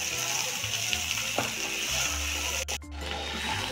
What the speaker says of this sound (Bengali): আমি নেড়ে চেড়ে আরও কিছুক্ষণ ভেজে নেব। অনবরত নেড়ে চেড়ে যাতে তলায় লেগে না যায়।